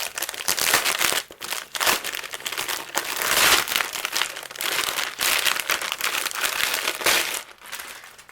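Quarter-inch adhesive tape being torn and crinkled by hand without scissors, a steady run of crackly rips and rustles close by with brief pauses between pulls.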